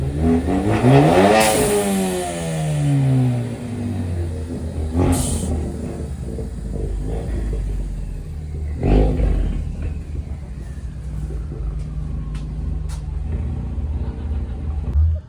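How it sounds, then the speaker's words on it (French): A Ford Focus ST engine revs hard and loud at a car show, pitch sweeping up then falling, with a sharp burst midway and a steady rumbling idle continuing throughout. "Une petite Ford Focus ST qui fait du bruit."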